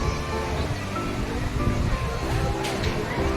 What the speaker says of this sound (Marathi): आणि हा धबधब्याचा हा फ्लो